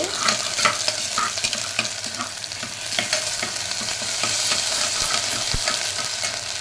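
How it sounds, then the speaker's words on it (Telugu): Cold-pressed oil foams and sizzles hard in a pan with ginger-garlic paste, a dense steady crackle with scraping stir strokes and a sharp clink near the end, no voices. "గానుగ నూనె కదా, ఇలా పొంగుతుందండి."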